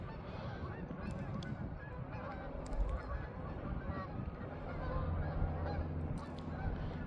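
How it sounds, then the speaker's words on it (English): Geese fly overhead in huge flocks above a riverside park beside a sewage treatment plant. Their honking forms a constant, distant chorus over a low outdoor rumble, with faint voices at times. "hundreds and thousands of geese come flying right over top"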